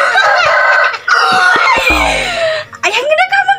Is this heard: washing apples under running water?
no